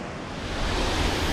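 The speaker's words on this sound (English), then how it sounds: "So there's sound of water ahead." Water rushes steadily from a waterfall somewhere ahead on a mountain drive, a broad continuous roar that swells slightly louder partway through, with no voices.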